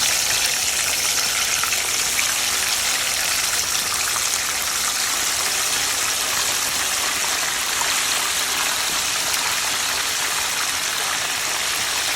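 Loud, continuous bubbling roar of chicken wings deep-frying in hot oil, steady and close with no voices.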